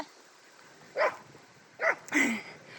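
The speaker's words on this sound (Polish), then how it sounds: "Na mrówkę, na mrówkę ten szczeka." A dog barks at an ant indoors, giving three short, moderately loud barks spaced about a second apart, the last a doubled yip, against a quiet background.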